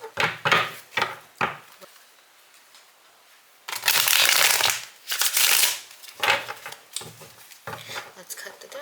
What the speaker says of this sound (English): Let's cut the deck.